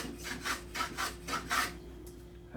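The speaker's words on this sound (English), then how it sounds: "I'm holding the plane at a slight angle to match the angle of the split" Hand plane shaving a split piece of wood for violin making, the plane held at a slight angle; five or six steady rasping strokes in an even rhythm, close and soft, with no talking.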